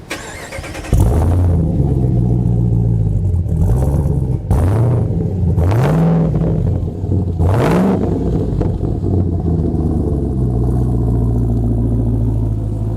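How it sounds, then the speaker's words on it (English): A Jeep Gladiator fitted with a Hellcat V8 idles loudly up close, then blips its throttle four times in quick rising revs before settling back to a deep, rumbling idle. "can you jump in there and kind of rev the engine a couple times?"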